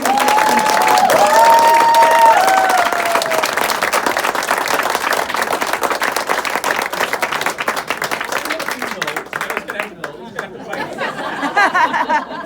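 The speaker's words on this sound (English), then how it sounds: "on behalf of all of us, I want to give you a round of applause" An audience gives a long round of applause, dense clapping mixed with chatter and a few voices, indoors at a gathering honouring someone's career with Falmouth Hospital, gradually thinning toward the end.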